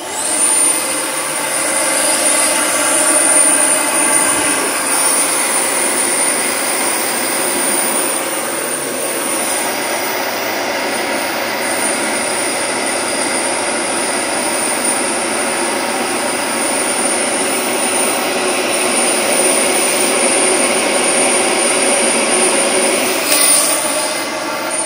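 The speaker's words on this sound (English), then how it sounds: "we've got this big powerful motor down here creating a bunch of airflow." A big, powerful bagless vacuum cleaner motor runs steadily throughout, a loud, continuous whooshing roar of airflow with a high whine on top and no talking.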